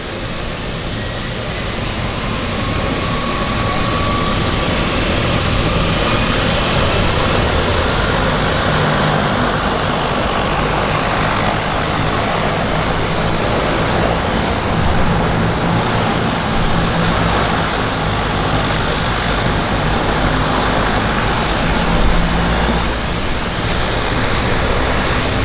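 A turboprop floatplane at Vancouver Harbour airport drones steadily with a continuous broadband engine roar and a faint high whine, loud and sustained throughout, with no talking.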